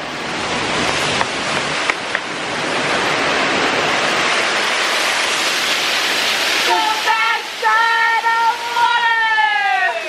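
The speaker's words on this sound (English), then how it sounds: "this is so pretty with like the waterfall" A waterfall pours as a steady broad rush beside rapids, continuous throughout, with a person talking over it in the final seconds.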